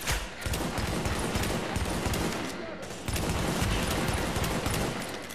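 An automatic sniper rifle in The Division fires in dense, continuous bursts of loud gunfire that last nearly the whole stretch, with only a brief dip in the middle.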